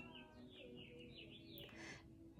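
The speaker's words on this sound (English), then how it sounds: "And you heard the birds outside." Small birds chirp and tweet outdoors in quick, thin, rising and falling calls over a steady background hum, faint and distant.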